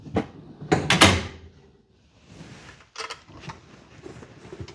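Drawer on a US General 56-inch steel tool box, loaded with a tap and die set, gloves and Allen key sets, slid open and shut with sharp clunks and a rolling rumble, close and alone.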